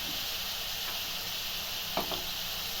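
Onions frying in a pan with oil for lemon rice make a steady, close sizzling hiss with brief scraping stir sounds toward the end; there is no talking.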